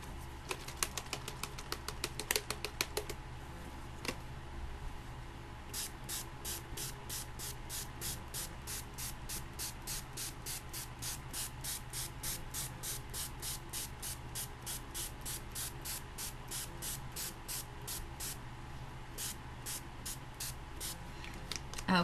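Short hissing bursts of Glimmer Mist sprayed onto paper roses, a quick cluster of spritzes at the start and then a long run of evenly spaced, fairly quiet puffs.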